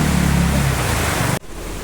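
Heavy monsoon rain pours in Kalimpong as a dense, loud, steady hiss that suddenly drops away to a quieter wash near the end.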